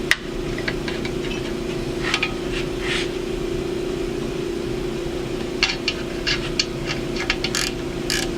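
A ratchet snugs up the bolts on an intercooler bracket of a Jeep Grand Cherokee EcoDiesel, giving short bursts of metallic clicking at irregular intervals over a steady mechanical hum, close and without talk.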